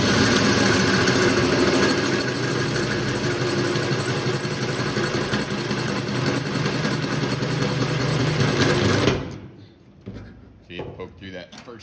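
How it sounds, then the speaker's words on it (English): A 2-inch hole saw on a drill cuts through the steel firewall of a 1954-1955 Chevy truck, a loud, steady grinding whine for about nine seconds that stops abruptly, leaving faint clatter. "And this is a 2-inch hole saw."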